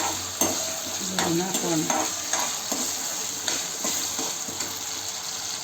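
Garlic, ginger, tomato and chili tempering sizzles steadily in hot oil for a cheese sandwich masala, with occasional stirring clinks of a utensil and a brief spoken line over the frying.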